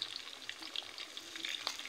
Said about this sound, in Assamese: এয়া পিঁয়াজখিনি ধুনীয়াকৈ ভাজি গৈছে। মই এতিয়া দি দিছোঁ ৰচুন আদাৰ পেষ্ট অকণমান।